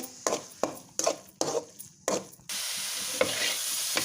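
Coconut laddu mixture stirred in a pan with about six distinct scraping strokes in steady rhythm, then a continuous soft sizzling hiss as it cooks, close and fairly quiet.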